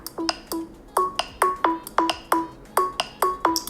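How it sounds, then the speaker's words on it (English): Google Pixel 4a phone ringtone: a crisp, bright chime of short pinging notes repeating in a quick, regular rhythm, clear and moderately loud with nothing else heard. "The ringtone volume is great."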